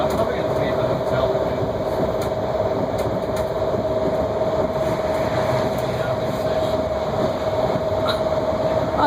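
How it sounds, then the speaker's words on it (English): Heathrow Express train in London running steadily at a constant loud rumble with a sustained tone, no break across the span. "I did not know there were multiple Heathrow Expresses."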